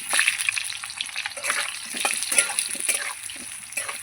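Potatoes frying in oil in a pan for a Bengali pumpkin and hilsa dish, a steady close crackling sizzle with small spitting pops, continuous and fairly loud with no talking.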